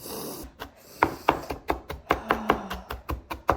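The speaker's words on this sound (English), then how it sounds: "Do you think I look fancy chopping onions like this?" Onions are chopped on a board with a knife: a steady series of about a dozen sharp, close taps in an even rhythm, with no talking.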